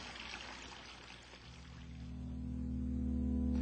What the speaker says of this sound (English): When the plug is first pulled, water near the center of the bowl, where the internal motion is least, flows directly down